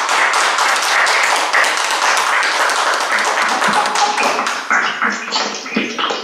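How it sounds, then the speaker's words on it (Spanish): Applause during a virtual graduation ceremony for the 2020 night-school class, dense and steady clapping that fills the whole stretch before thinning toward the end. "Un aplauso para ella."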